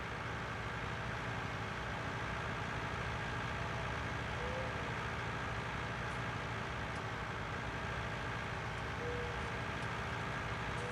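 A tractor in the farming video game Farming Simulator 19, on the Ravenport map, drives along with a low, steady engine drone that holds a constant, quiet hum throughout and no talking over it.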